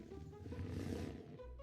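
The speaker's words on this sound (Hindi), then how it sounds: "शेर को गुस्सा आ गया। वो दहाड़ा" Lion roaring as a sound effect in a Hindi bedtime story, one sustained faint growling roar lasting over a second, alone without talk.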